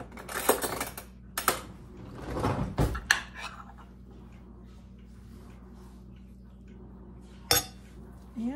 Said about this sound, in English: Then I'm going to put a scoop of scrambled egg on it.